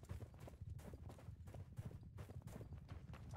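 Horse hooves clip-clop steadily in a multiplayer video game battle, a continuous rapid rhythm of fairly loud hoof falls with no talk over them.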